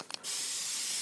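Cooking spray hisses steadily from an aerosol can onto a pan before it goes on the heat for a Swiss cheese omelette, a brief click leading into one continuous, close, loud spray.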